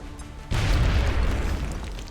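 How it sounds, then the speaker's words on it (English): A single sudden grenade explosion blowing up a generator in XCOM: Enemy Unknown, a loud deep boom that hits abruptly and rumbles on as a dense roar, alone without talk. "Oh, it blew up the generator and actually killed that guy."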